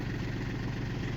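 A snow blower engine idles close by on a driveway during a snowstorm, a low, steady, throbbing rumble with faint rhythmic pulsing and no speech.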